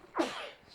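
A single sharp sneeze bursts out close by in a broadcast booth during a high school football game, brief and fairly loud, with a breathy intake first and a quick fade afterward.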